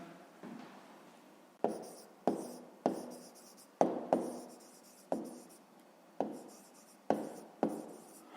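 Pen or pencil writing out the answer to a fifth-grade maths exercise: about ten sharp, separate scratching strokes in an uneven rhythm, close and fairly quiet, with no talk.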